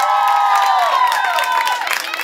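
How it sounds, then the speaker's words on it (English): A crowd of graduating seniors cheers and shouts with some clapping mixed in, loud and sustained for a couple of seconds at a graduation video screening. "So big round of applause for them, please."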